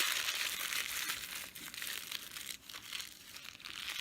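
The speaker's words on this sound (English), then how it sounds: "I'm going to take my wax paper and I'm going to wad it up." Wax paper being crumpled and wadded up by hand, a steady close crackling crinkle that runs continuously with brief dips, no talking.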